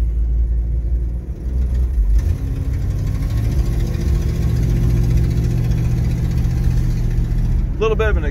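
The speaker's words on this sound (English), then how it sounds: "A little bit of an exhaust leak up there somewhere." A 1958 Chevrolet Impala with factory air idles steadily, with a deep, even engine rumble and an exhaust leak near the manifold. The idle runs throughout, close and moderately loud, with a brief sharper sound at the very end.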